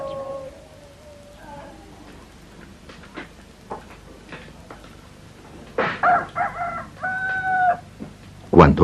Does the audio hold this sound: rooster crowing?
yes